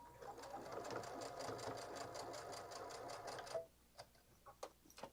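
A home sewing machine runs a basting stitch with a 3.5 stitch length at medium speed on a bag project, a steady rapid close whirring chatter for about three seconds that stops, followed by a few soft clicks and handling noises.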